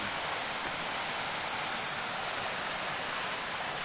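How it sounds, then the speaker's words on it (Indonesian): Waterfall at a hidden spot in Nagari Supayang, a steady, dense roar of falling water filling the whole clip, loud and close with no voices. "Bagi pecinta-cinta air terjun, datanglah kemari, rasakan sensasinya."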